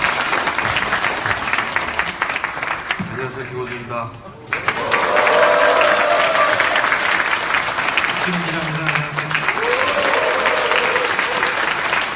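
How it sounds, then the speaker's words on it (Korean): Big applause from a crowd welcoming two guests at a union strike rally, loud continuous clapping and cheering with an announcer's voice and other voices over it, dipping briefly before surging back. "두 분을 큰 박수로 모시겠습니다"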